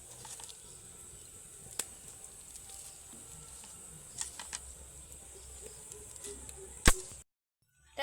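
Battered eggplant slices frying in hot oil, a soft steady sizzle with occasional sharp pops and crackles, fairly faint and close, with no talking over it.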